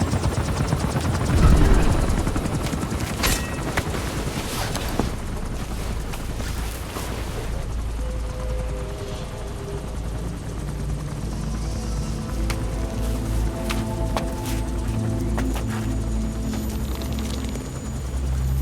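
Helicopter rotor noise in the video game Metal Gear Solid V: The Phantom Pain chops and whooshes loudly with wind-like rumble, settling into a steady drone with faint tonal hums later on.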